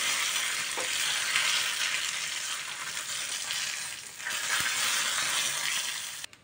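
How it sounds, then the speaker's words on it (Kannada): Dry red chillies sizzle in hot oil as tempering for an okra buttermilk curry, giving a steady, bright crackle that runs almost the whole time and fades out near the end with a light clink. "ಒಣಮೆಣಸನ್ನು ಹಾಕಿಕೊಳ್ತಿದ್ದೇನೆ"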